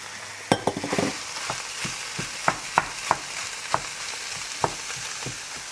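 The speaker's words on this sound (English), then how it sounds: "we're going to already throw in our minced meat. And give that a good sear." Minced meat sizzling steadily in a hot Dutch oven, with scattered sharp clicks and scrapes of stirring over a continuous frying hiss.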